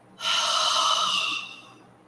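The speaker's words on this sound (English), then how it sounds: "inhaling through the nose. Exhaling through the mouth." Slow, deep breath during a guided calm-breathing session, drawn in through the nose and let out through the mouth, one long airy exhale rising and fading over about a second, close and alone with no talking.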